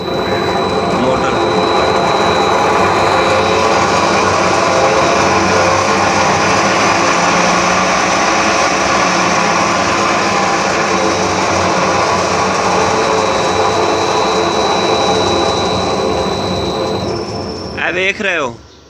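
A motor driven by a new inverter hums steadily and loudly for most of the stretch, with a constant high whine running through it, then cuts out near the end with a few brief knocks.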